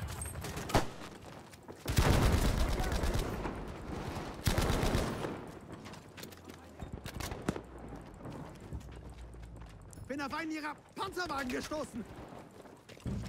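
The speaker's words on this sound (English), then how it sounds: "Oh, the Bren gun. So good." Automatic rifle fire from a Bren light machine gun in the World War II shooter game Battlefield V, loud rapid bursts repeating over the first seconds, then quieter battle noise with a voice talking near the end.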